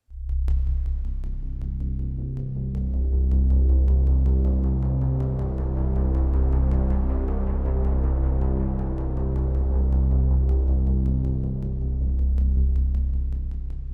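A soft synthesizer pad loops through a pattern sequencer, its sustained, warm low chords shifting step by step in a steady, continuous drone with gentle swells and no voices.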